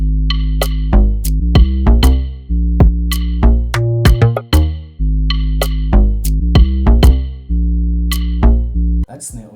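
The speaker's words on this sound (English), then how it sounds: "To put in this snare." A snare drum plays in a beat, with sharp crisp hits recurring in a steady pattern over a deep sustained bass and tonal notes, loud and up front.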